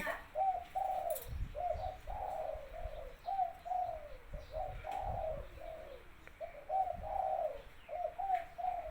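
A caged dove cooing in a repeated pattern of soft, rolling coos, about eight calls spaced evenly, clear and fairly close over quiet outdoor background with faint low thumps.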